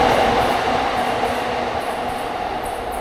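A train runs along the tracks at Ikebukuro Station in Tokyo, giving a loud, steady rumble with a sustained tone and faint high squeals, with no talk.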